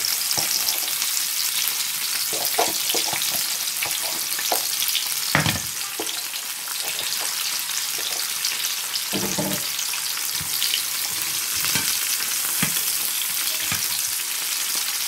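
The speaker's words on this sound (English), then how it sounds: "So after the oil have hot, I will just add my" Onion frying in hot oil in a pan while yam and porridge are cooked: a steady, loud, dense sizzle fills the whole stretch, broken by occasional scrapes and stirs, close up and with no speech.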